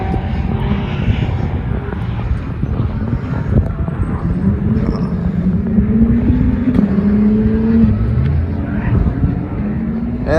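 A Shelby GT350 at a track day drones with a loud, sustained engine note that rises and falls in pitch as it passes, with steady rumble and background noise throughout.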